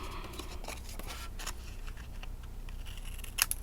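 Scissors trim paper for a large album craft, quiet crisp snips scattered across the stretch, with one sharper click near the end against a faint background hiss.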